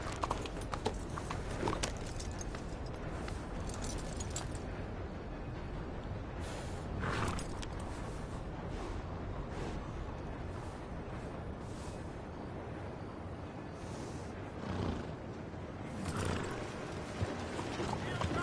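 Horse hooves clip-clop at a steady gait in the video game Red Dead Redemption 2, layered over dense outdoor ambience at an even, moderate level.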